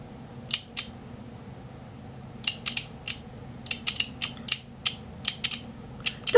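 Sharp metal scissors snip a long thread tail in a string of quick, close cuts, a few at first and then a dense irregular run of crisp clicks over a quiet background.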